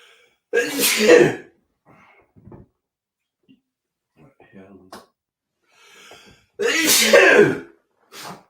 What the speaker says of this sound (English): So there's probably going to be a bit of sneezing and snorking and coughing in this stream.